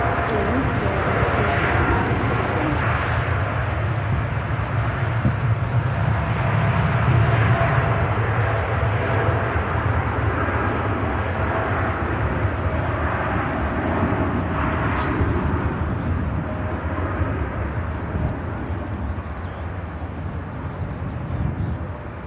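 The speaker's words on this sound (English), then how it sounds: "Here's the Dreamliner rolling." A Boeing Dreamliner airliner rolls for takeoff at Manchester Airport, its jet engines producing a loud, broad, sustained roar that swells slightly and holds steady throughout, with a voice talking over it.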